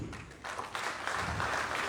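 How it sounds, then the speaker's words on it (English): Applause from the audience at a small and medium-size enterprise conference and trade fair, faint and distant clapping that starts thin and builds into a fuller, steady patter. "I want you to give a hands of applause for all the remarks today."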